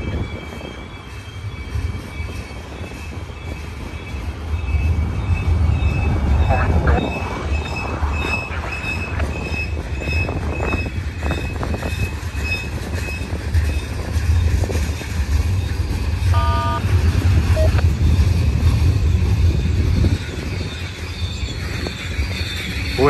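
A manifest freight train with boxcars, including Boise Cascade cars, rolls past at Verdemont in San Bernardino, making a loud, continuous rumble with rhythmic wheel clatter, metallic clanks and brief squeals.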